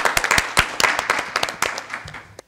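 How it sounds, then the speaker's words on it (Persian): Audience applause at a comedy show, a burst of dense, uneven hand clapping with sharp individual claps standing out, fading toward the end. "آفرین آفرین، تشویق کنه"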